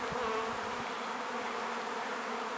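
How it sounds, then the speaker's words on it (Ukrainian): Honeybees buzz around a hive as they settle into a 12-frame box, a dense, continuous drone of many insects close by with no voices. "Бачите, бджілки зараз вони заспокоюються, звісно. І залетять у вулик, який стоїть, їм нема куди діватися."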